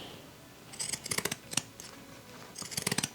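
Heavy scissors snip through thick vinyl fabric for a zippered clutch, giving a run of quick close crunchy cuts in two clusters with a brief pause between, and no voice.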